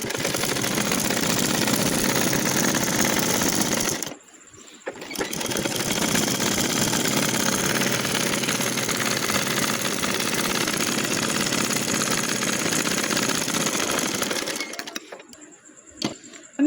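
A sewing machine runs in long, steady bursts while stitching a pajama hem, a loud continuous whirring hum that stops briefly twice, with no talk over it.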